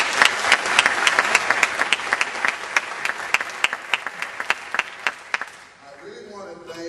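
An audience at the National Teachers Hall of Fame ceremony gives a sustained round of applause, with a few loud, distinct nearby claps standing out over the crowd before it fades and a voice begins speaking.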